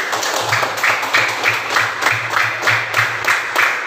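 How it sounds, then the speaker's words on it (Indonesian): A classroom of students clapping together for their student groups, a loud, close, rhythmic applause with regular synchronized beats roughly every half second, steady for four seconds. "Kita beri tepuk tangan dulu untuk semua kelompok."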